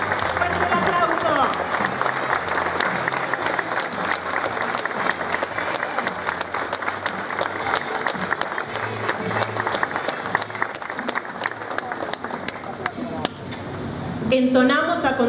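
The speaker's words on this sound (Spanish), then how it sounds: "¡Fuerte el aplauso!" Audience applause at a school graduation ceremony in Argentina as flag bearers enter, a long, steady, brisk clapping from a crowd of many hands, slightly thinning near the end before swelling again.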